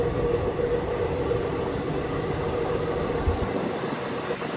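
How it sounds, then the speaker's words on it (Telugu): Inside a Sankranthi special train moving slowly, a steady rumble and hum from the coach and rails holds at an even, moderate level, with a faint higher whine and a brief knock near the end. "చాలా మెల్లగా అయితే పోతుంది ట్రైన్"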